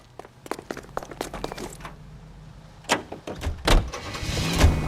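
A car in L.A. Noire: scattered clicks and knocks of a door and handling, then a few heavier thumps and a low engine rumble rising toward the end, fairly close with no talk.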